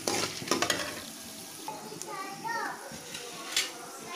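Chana dal fries and gets stirred in a pan for lunch, a soft sizzle with light scraping and clinks under quiet talk and children's voices in the background.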